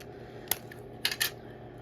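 Scissors cutting through paper tape, made to look vintage and yellowed with ripped edges: one sharp snip followed by two quick crisp cuts, close and clear over a steady low hum.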